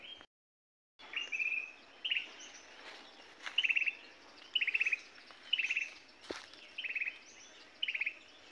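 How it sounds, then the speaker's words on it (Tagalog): Several small birds chirping outdoors in repeated short bursts, fairly faint and regular, with a quiet background hum between calls and a brief silent gap near the start. "Ang daming mga naghuhuni na ibon dito."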